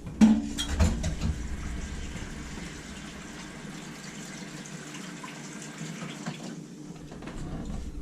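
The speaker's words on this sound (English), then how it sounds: "Sorry, I had to wash my hands." Tap water runs steadily into a kitchen sink as hands are washed, a soft continuous splash in a quiet room, with a couple of knocks at the start and the flow cutting off near the end.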